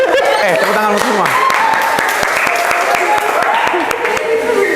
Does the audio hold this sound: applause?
yes